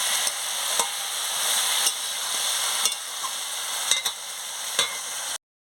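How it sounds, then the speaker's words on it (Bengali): A tilapia curry with Malabar spinach is stirred in a pot after salt goes in, giving a steady hiss broken by about six sharp spoon scrapes and clinks at irregular intervals. No one speaks. "নুন দিয়ে ভালো করে নাড়িয়ে নিচ্ছি।"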